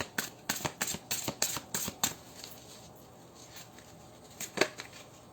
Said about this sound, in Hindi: अभी हम इस डेक से भी देख लेते हैं 2 कार्ड